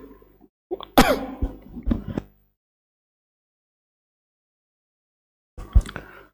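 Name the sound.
cough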